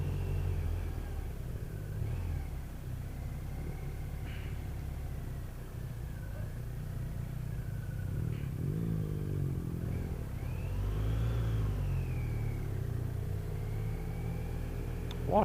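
A car moves slowly through a village street past parked cars and roadworks, giving a steady low engine rumble and road noise throughout, with a slight swell in engine sound toward the end.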